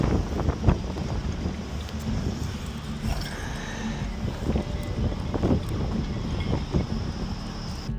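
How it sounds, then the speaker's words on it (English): Strong wind buffets and roars across an open boat deck, a steady loud rush of wind noise hitting the microphone with gusts rising and falling throughout. "It's so windy"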